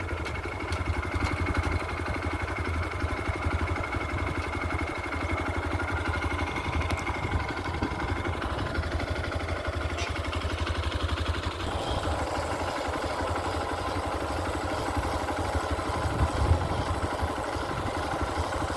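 A motorcycle engine hums steadily while riding on a sunny road trip, with continuous low rumble and wind noise throughout and no talking.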